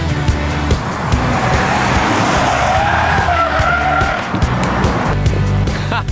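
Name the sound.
Honda Civic GX natural gas car driving off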